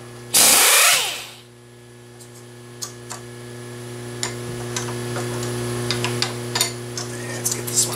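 An end mill is swapped out in a milling machine spindle, opening with a loud, brief hissing burst, then scattered metallic clicks and taps over a steady humming motor tone.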